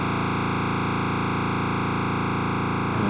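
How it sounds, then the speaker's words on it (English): Buzzy, distorted digital noise from a modular synth patch holds as a steady, dense drone at a constant loud level, with a slight change near the end. "So now we have our digital noise back in there."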